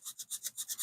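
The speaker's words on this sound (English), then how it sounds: "This is just sandpaper that's been stuck to a paint stirrer, and I use these sanding sticks for everything." Sandpaper glued to a wooden paint stirrer rasps back and forth in quick, even strokes, about eight close, dry scrapes in under a second.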